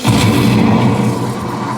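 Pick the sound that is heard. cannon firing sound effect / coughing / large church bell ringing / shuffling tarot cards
cannon firing sound effect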